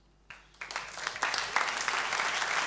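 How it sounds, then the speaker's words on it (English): Applause for a musician at an evening show starts with a few scattered claps, then swells quickly into a full, steady audience ovation that keeps building. "Give him a big hand of applause."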